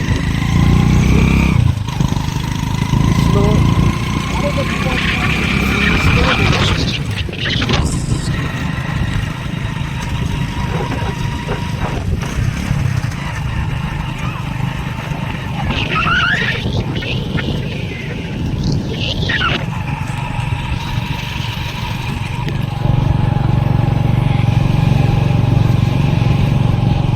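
A motorcycle engine runs while being ridden through a village, a steady low hum with occasional rises in revs, heard under people talking.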